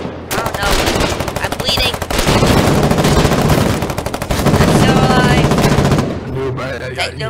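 Sustained bursts of machine gun fire in the war video game Foxhole, loud and close, nearly continuous with brief gaps and a voice talking over it.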